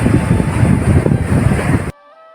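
Waves surge and crash against the rocks at Malpe beach on the Karnataka coast, a loud, steady roar of churning surf with wind buffeting the microphone, then cutting off abruptly near the end.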